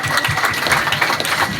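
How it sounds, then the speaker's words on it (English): Audience applause at a mayoral forum, a short burst of dense clapping that is loud and close, filling the whole moment with a rough, uneven texture. "Let's give a round of applause to the Royale"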